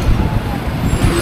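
Road traffic passes through the Dhulagarh toll plaza on the highway toward Kolaghat, heard from a moving motorbike as a close, steady rumble of engines and tyre noise with wind buffeting.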